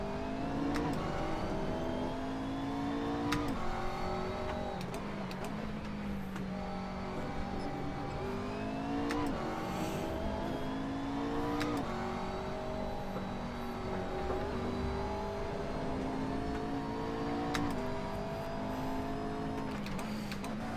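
A race car engine in a sim racing video game (Assetto Corsa) drones steadily, revving up and down through repeated gear shifts with occasional sharp clicks, continuous and fairly loud.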